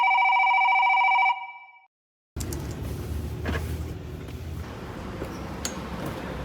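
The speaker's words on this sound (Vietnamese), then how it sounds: "trong cái tiếng chuông điện thoại thôi." A loud electronic telephone ring trills steadily, then cuts off; after a short silence, a low background rumble of an engine or room noise follows.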